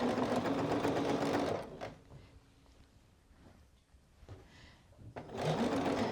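A sewing machine stitches the stretched ribbing bottom band onto a Cashmerette Stanton hoodie, running in loud bursts at the start and end with a quieter pause between.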